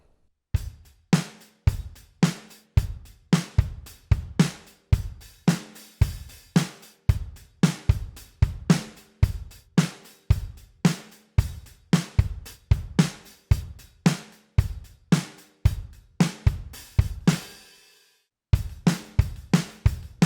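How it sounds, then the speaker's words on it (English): A steady drum kit beat played on hi-hats with kick hits, repeating in an even, driving rhythm with a brief break near the end, no voices. "we just move that same beat over onto the hi-hats, and this is what it's going to sound like"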